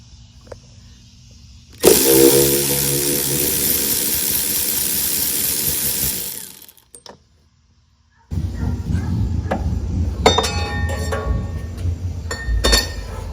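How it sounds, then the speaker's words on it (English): A power tool, probably an air or impact tool, works the upper shock nut on a Foxbody Mustang, giving a loud sustained whir of about five seconds, then a pause and a noisier stretch with metallic clinks. "I'm gonna go ahead and try and get this upper shock nut off."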